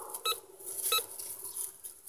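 Metal detector sweeping over a buried target about 5 to 7 inches deep in bushland, later dug up as an old broken carriage bolt and square nut; two short electronic beeps ring out, one near the start and one near the middle, over faint hiss.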